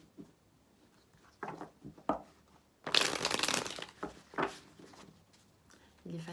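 A deck of cards being shuffled up close, with soft riffling bursts, one longer loud flurry in the middle and scattered shorter rustles around it, while someone speaks at moments.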